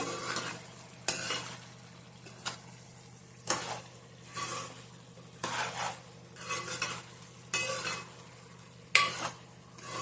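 Mutton curry being stirred in a cooking pot, with repeated scraping strokes of a spoon against the pot every second or so over a low steady hum and gentle sizzle.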